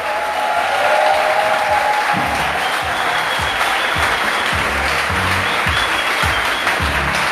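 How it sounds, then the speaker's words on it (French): A crowd at an outdoor evening event applauds loudly and continuously, a thick wash of clapping with faint voices and low murmur underneath. "Ça mérite des applaudissements."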